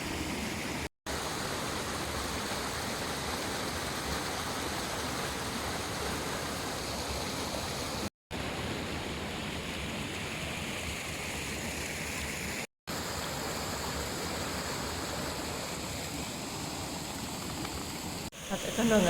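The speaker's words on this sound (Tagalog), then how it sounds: "Ito na ang unang mini waterfalls. Pakinggan natin ang sounds." Small woodland waterfall feeding a stream, a continuous close rush of falling and flowing water that holds steady for the whole stretch, broken only by brief cuts.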